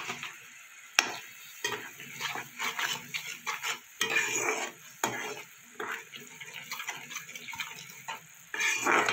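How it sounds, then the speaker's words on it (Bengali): A utensil stirs mustard and poppy seed paste with turmeric and salt in a pan, for a flat bean dish. The scraping is steady and close, with a soft sizzle underneath and occasional clinks against the pan. "সর্ষে আর পোস্তটা আমি কিছুক্ষণ নাড়াচাড়া করে নেবো।"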